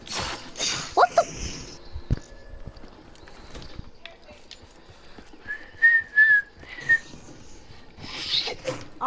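Loud, shrill whistling from a person in a Call of Duty: Black Ops III gaming session, a few sharp bursts near the middle over background game noise, with people talking around it.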